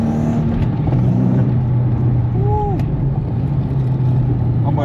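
A manual Nissan G37 sedan engine drones loud and steady from inside the cabin under hard acceleration. A brief whine rises partway through.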